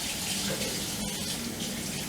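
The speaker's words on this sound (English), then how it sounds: "I'm going to rinse them off a little bit," Water pours steadily from a kitchen tap over canned black beans being rinsed, a continuous close splashing rush with no talking.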